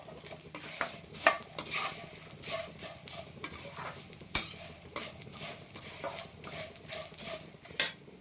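Food fries in a pan while a utensil stirs it, giving repeated scraping and clinking strokes at an irregular rhythm over a soft background sizzle, close and moderately loud.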